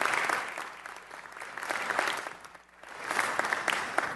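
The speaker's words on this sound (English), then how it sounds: "Round of applause." Applause fills a city council meeting during a presentation for African American History Month, a steady wash of many hands clapping that dips briefly near the end before swelling again.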